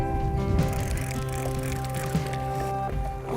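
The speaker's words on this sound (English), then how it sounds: "It's hard to see through the splash here with the waves hitting the side of the boat." Waves slapping and splashing against the side of a boat on open water, steady and close, with gurgling washes and occasional louder hits.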